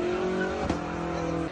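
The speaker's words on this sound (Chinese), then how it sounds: "还疯狂烧胎，轮胎不断摩擦地面，产生阵阵烟雾，还发出刺耳噪音声响。" A matte black sedan does a burnout, spinning its tires at the National Freeway 3 Nantou service area: a loud, sustained tire squeal over engine roar with a brief skid burst midway.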